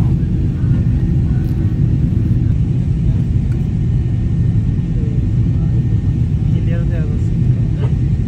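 Airliner cabin noise during a Dubai to Dhaka flight over Kolkata: a loud, constant low rumble that fills the whole stretch.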